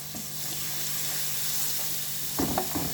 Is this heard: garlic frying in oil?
yes